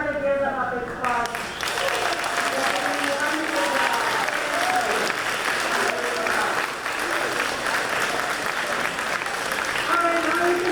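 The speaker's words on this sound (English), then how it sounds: "Everybody give them a big applause." An audience at a school moving-on ceremony gives a dense, sustained round of applause for chorus and percussion students, loud and even throughout, with a voice speaking at the start and end.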